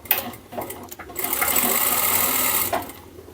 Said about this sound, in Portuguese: Eu vou costurar do meio para cá.